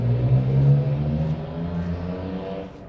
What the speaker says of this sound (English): It's a very loud truck.